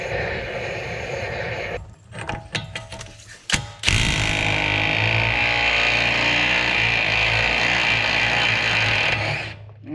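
Ratchet and socket on the wheel bearing bolts of a 2014 Impala: a few loose clicks and clanks, then a sharp break and a long continuous buzzing whir, loud and close, running for several seconds.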